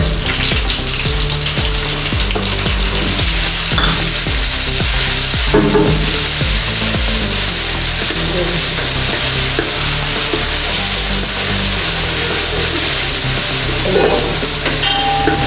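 Steady, loud sizzling of ginger garlic paste frying in hot oil, with occasional stirring clatter, continuous and close throughout.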